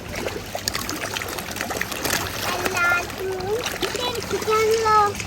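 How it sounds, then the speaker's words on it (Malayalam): Water splashes and dribbles in bursts close by while a child and adults chatter over it. "വെള്ളം തെറിപ്പിക്കാൻ ഇഷ്ടമായിരിക്കുന്നു"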